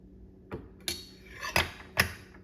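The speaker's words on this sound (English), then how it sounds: "take your new blade, slide it up from the bottom, and place it on the arbor" A new Ryobi circular saw blade is slid up and seated on the arbor, giving four sharp metallic clinks and taps spaced irregularly, close and clear against a quiet background.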